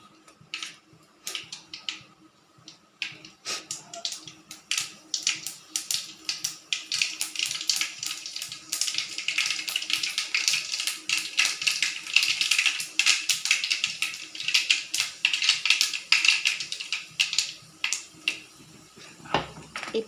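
Mustard and fenugreek seeds crackling in hot oil, a dense run of sharp pops and spits that starts sparse, thickens into rapid crackle, then tapers toward the end.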